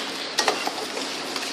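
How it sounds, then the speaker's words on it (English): A spoon stirs a mixture in a bowl so it dissolves, making a few light scraping clinks over a soft, steady hiss, with no one talking. "Somebody give that a stir up, please"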